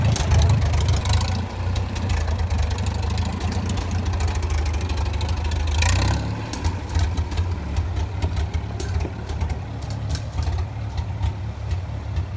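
A Farmall Super M tractor engine runs at a steady low idle, a continuous near rumble that shifts and roughens slightly partway through.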